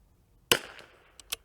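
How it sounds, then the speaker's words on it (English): Sharp report of a .22 LR rifle firing at a target, a single loud crack followed by a short decaying tail, then fainter clicks. "Might shoot 3 shots just to conserve our ammo."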